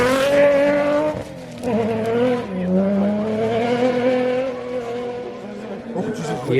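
A BMW rally car at a stage hairpin during a snow rally event, its engine note rising and falling loudly and close with shifting harmonics, tyres scrabbling, while people talk over it.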